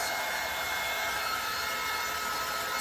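A heat tool blowing hot air to heat-set and dry chalk paste, a steady close whirring hiss of fan and airflow that holds unchanged throughout, with no voices.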